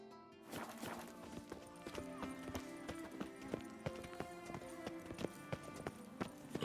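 Horse hooves clip-clop in a steady rhythm in The Witcher 3: Wild Hunt, close and clear over a game's background music, with a whinny mixed in.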